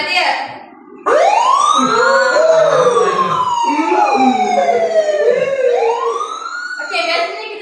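Loud ambulance siren wailing close by, rising and falling sweeps repeating over several seconds, with a faint voice briefly before it starts.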